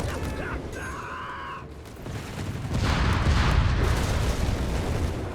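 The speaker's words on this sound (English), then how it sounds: "explosions, we got death, we got big booms all over the place" Company of Heroes 3 battle explosions rumble heavily and continuously in the second half, preceded by mechanical whirring and whistling tones, loud and dense.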